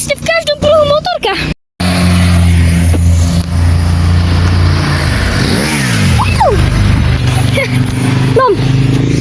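Talk over a running engine, then a steady roar as motor vehicles pass, with rising and falling engine pitch as motorcycles go by on the road.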